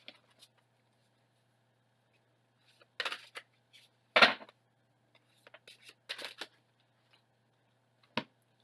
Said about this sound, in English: These hard cards are so hard to shuffle.